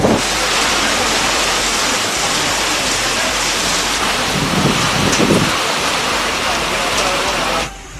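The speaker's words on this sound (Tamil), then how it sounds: "இடியுடன் கூடிய கனமழை பெய்தது." Heavy rain with thunder over Madurai: a dense, steady roar of downpour fills the whole stretch, with a deeper rumbling swell near the middle before the noise drops off at the end.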